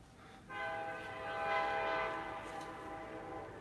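A train horn blares loud and sustained with rich harmonic tones, swelling then holding steady over the rumble of passing trains, with no talk.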